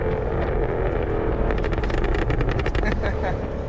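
Exhaust pops and crackles from a 2017 Jaguar F-Type R, a rapid burst of sharp loud cracks over steady engine and road noise, heard from the cabin while a voice talks over it.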